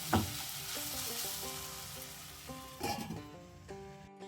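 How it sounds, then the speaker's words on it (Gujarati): Grated elephant foot yam (suran) frying in a pan, a quiet continuous sizzle broken by scraping stirs near the start and again around the middle, heard close with no talk. "વચ્ચે વચ્ચે સુરણને હલાવતા રહીશું"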